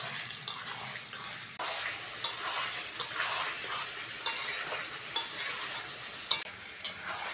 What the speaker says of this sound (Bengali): চিকেনটা টমেটো আর পেঁয়াজের সঙ্গে ভালো করে ভেজে নিতে হবে বন্ধুরা।